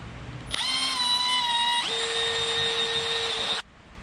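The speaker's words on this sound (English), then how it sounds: "We're gonna drill 2 holes about an inch apart" A power drill bores two holes about an inch apart in a stone crab bait holder: a loud, close, steady whine that drops to a lower pitch partway through and cuts off after about three seconds.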